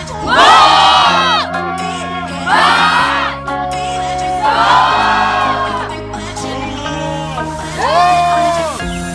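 Crowd of tourists on a Halong Bay cruise in Vietnam yelling back in unison in response, loud repeated group shouts in bursts with short pauses between them, over steady droning background music.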